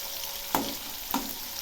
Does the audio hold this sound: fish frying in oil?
yes